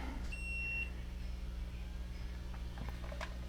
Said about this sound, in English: That beep there, that was the VMU here